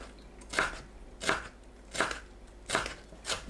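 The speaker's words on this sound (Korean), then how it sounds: "파프리카를 채 썰어줍니다." A knife cutting paprika into thin julienne strips on a cutting board, five evenly spaced crisp chops at a relaxed, steady pace, close and fairly soft with no talk.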